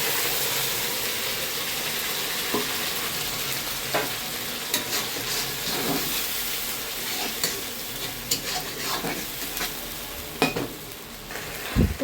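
Onion garlic paste sizzles steadily in a pan with browned fried onions for a chicken curry, a continuous frying hiss broken by scattered spatula scrapes and stirring clicks, close and fairly loud, no voices.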